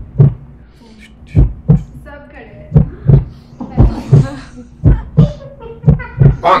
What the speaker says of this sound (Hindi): जो धक धक की आवाज हो रही है